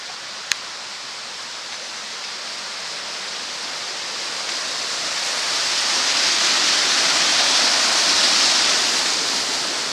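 Steady rushing water from a river along the Anglesey coastal path, a broad continuous wash that swells slightly louder midway, with one brief faint click near the start and no voices.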